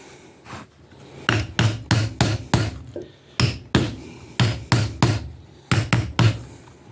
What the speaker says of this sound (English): Use your hammer.